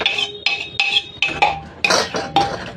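Cooked food being churned and mashed in a metal pot with a spoon, giving repeated rhythmic scraping and clinking strokes about every half second, close and fairly loud, with no talking.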